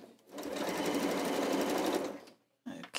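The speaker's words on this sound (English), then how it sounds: "as you're sewing, you're actually just sewing two flat pieces of fabric." A domestic sewing machine stitches two flat pieces of quilt fabric in one steady, loud whirring run of about two seconds, then stops and a brief handling noise follows.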